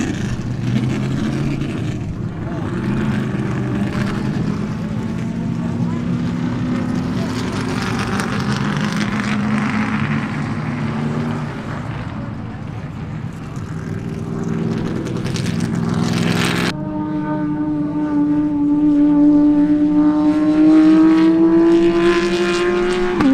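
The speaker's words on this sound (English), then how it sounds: "they're going to roll them by right now" Vintage race cars and a GTR rolling past at Sebring during an SVRA vintage racing event, a continuous loud engine roar with rising and falling revs, one car passing close near the end, with voices mixed in.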